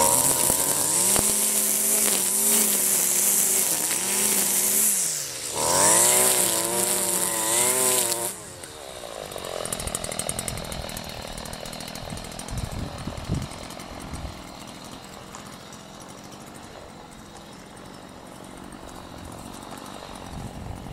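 A gasoline brush cutter's two-stroke engine revs high under throttle in two loud whining bursts, then drops back to a rough idle with clattering handling noises up close.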